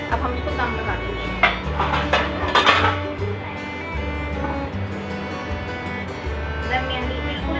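Metal pot and lid clank and clink a few times up close while someone cooks chana pulao on low heat, with speech over the clatter.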